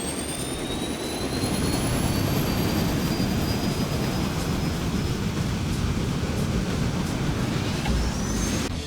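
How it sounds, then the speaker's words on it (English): The Wyvern S. Mk.4 aircraft's turboprop engine in a combat game roars loud and continuous, a dense close drone with a faint rising whine running over it for the whole stretch. "all you really need to know about this engine is that it makes a really cool sound"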